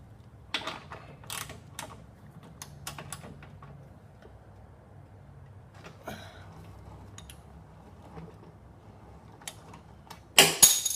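A 12mm socket and ratchet work on a Honda HRR 216 mower during a wheel and drive gear pinion repair: scattered sharp clicks and metallic ticks over quiet, ending in a louder clattering burst.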